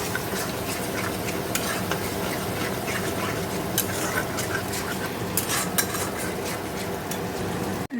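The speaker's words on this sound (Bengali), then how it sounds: "মশলাটা কষিয়ে নেব।" Spice paste for a fish curry stir-fried in a pan, a steady dense sizzle with occasional scraping clicks of the spatula, close and continuous with no talk.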